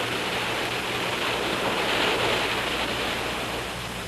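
Ocean waves arriving from the northeast and breaking on a beach, a steady, full wash of surf with continuous broadband roar and no pauses between breakers.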